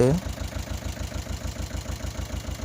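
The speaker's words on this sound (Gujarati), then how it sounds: "ટ્રેક્ટરને ચાલુ કરીને બતાવી આપણે જોઈ શકો ટ્રેક્ટર એકદમ ખૂબ સારો એવો ટ્રેક્ટરનો અવાજ આપણને જોવા મળશે" A 2019 Mahindra Jivo 225 DI 25 HP tractor engine idles steadily nearby, a low, even rhythmic chug throughout after a brief tonal sound at the start.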